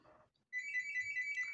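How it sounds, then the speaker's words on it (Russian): A phone rings with a steady electronic warble that starts abruptly after a brief murmur and continues at moderate volume. "у меня телефон звонит"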